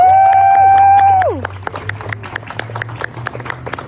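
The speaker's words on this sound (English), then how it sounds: "Let's give our clergy a round of applause again." An outdoor crowd at a gathering gives the clergy a round of applause, opening with a long sung-out whoop and then light, scattered clapping that patters on at moderate distance.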